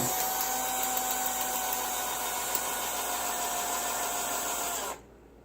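A power drill whirs steadily at high speed for several seconds, twisting coil wire held in pliers, close and loud, then cuts off abruptly.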